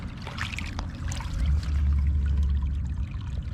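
Creek water flows and pours beneath a demolished mill, a close, churning gush with a rumbling low end that swells midway, with no talking.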